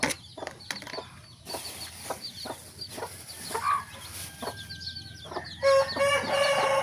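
Farmyard chickens, a hen with her few-days-old chicks, cluck and peep close by in a run of short calls, with a louder burst of chirping toward the end.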